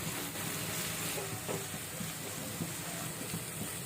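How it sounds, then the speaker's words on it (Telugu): Ginger-garlic paste frying with onions in a pan for a potato curry gives a steady soft sizzle, with occasional light stirring scrapes throughout. "పచ్చి వాసన పోయే వరకు ఇలా ఫ్రై చేసుకున్న తర్వాత ఈ బంగాళదుంప ముక్కల్ని వేసుకుంటున్నాము"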